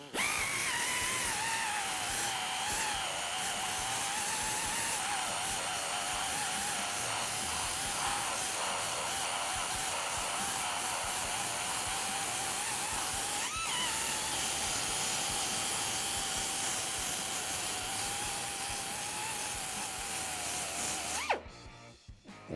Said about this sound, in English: how about I just go strip the rest of the seam sealer off